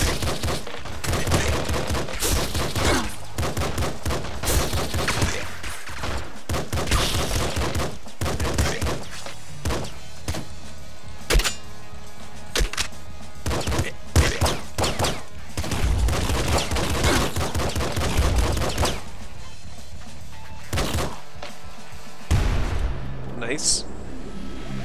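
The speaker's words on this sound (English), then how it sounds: "Of course the red barrels explode!" Rapid gunfire and bursts from red barrels exploding in the Nuclear Throne video game: dense, continuous volleys of shots with sharp blasts, loud and busy throughout, with a voice speaking over the action.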